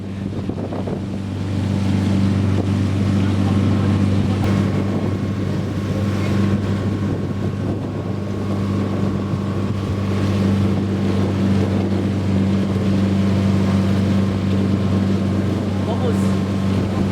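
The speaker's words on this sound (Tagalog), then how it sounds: "Hindi nyo maririnig to kasi napakaingay ng barko." A boat's engine drones loudly on a ride around El Nido, Palawan, a steady low hum with wind buffeting the microphone throughout and voices faintly underneath.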